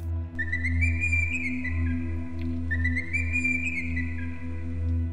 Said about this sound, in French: Arachnie siffla 2 coups